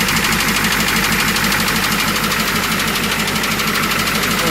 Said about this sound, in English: this front cylinder seems to be making the most noise, so more than likely that's my injector now.